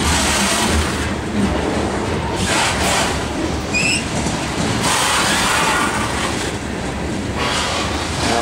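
A CSX Q464 freight train rolls steadily past at close range, a loud sustained rumble of wheels on rail with rhythmic surges as cars go by and a brief high squeal partway through.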